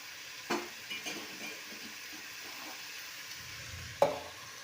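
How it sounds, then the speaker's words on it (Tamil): Mixed vegetables for sambar sauté in a pan with a soft, steady sizzle and a few faint spatula scrapes and taps, one sharper clink near the end, heard quietly and close with no voices. "வதக்கி வதக்கிட்டனாலே காய் சீக்கிரம் வெந்துடும்"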